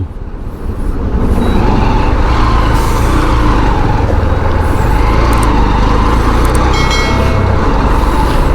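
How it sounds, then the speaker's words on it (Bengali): Trucks and cars crawling in a traffic jam before Farakka, with a loud, constant low rumble of engines and road noise close by and faint higher hiss and brake sounds over it. "ফারাক্কার আগে খালি জ্যাম দেখুন।"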